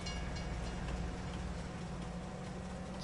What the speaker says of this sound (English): It's nice that you can use the train for this